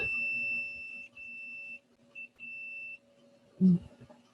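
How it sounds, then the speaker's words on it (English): A multimeter in continuity mode beeps while its probes test a fuse, sounding as thin, faint electronic tones that start and stop in several short bursts, followed by a brief low thump. "So this was a sonic beep. That means I have continuity."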